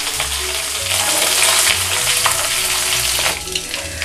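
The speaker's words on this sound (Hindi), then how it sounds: "अब मैं इसको अच्छे से मिक्स कर लूँगी।" Coarsely ground garlic and ginger paste is stirred in hot oil, a loud close sizzle with soft scraping from the spoon, easing slightly near the end, with no voices.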